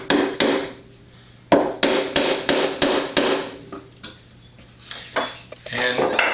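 Steel bench chisel struck to score lines in wood for a mortise on a Roubo workbench undercarriage, a series of sharp, loud mallet taps at an uneven rhythm, close by, with brief quieter gaps.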